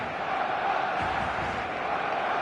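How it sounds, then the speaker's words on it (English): A big stadium crowd in eFootball roars steadily before kickoff, a dense, continuous wall of cheering and chanting that swells slightly midway, with no clear voices standing out. "The noise is just about reaching a crescendo here as these two sides get ready to lock horns."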